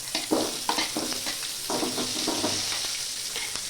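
Curry leaves and onions dropped into hot oil crackle and sizzle steadily, with a few spoon stirs and scrapes in the pan, close and continuous for a few seconds.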